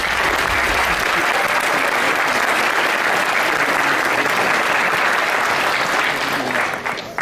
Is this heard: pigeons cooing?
no